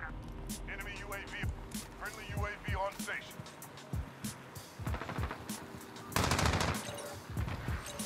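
Bursts of AK-47 fire in a first-person shooter game, sharp repeated shots scattered across the clip with a louder volley near the end, mixed with game sounds and a player talking over it.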